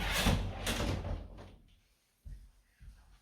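A bathroom door swings and shuts indoors, a fairly loud rustling movement followed by a couple of soft knocks as it settles closed, with no talk over it.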